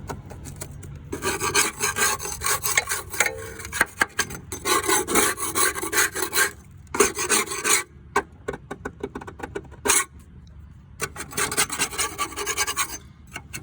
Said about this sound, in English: go ahead and just start scraping away.